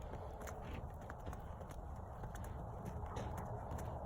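A horse trots during a riding lesson, its hoofbeats a quick, soft, fairly distant rhythm over steady outdoor rumble and wind.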